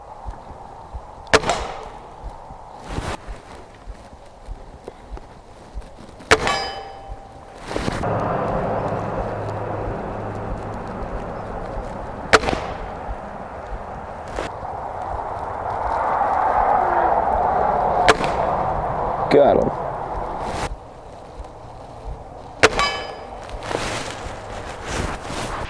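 Outdoor shots at night strike a frying pan target, each a sharp sudden crack or clang repeated about eight times at irregular intervals over windy background noise, with a voice speaking now and then.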